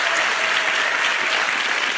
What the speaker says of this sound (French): Merci, Nicole, on applaudit.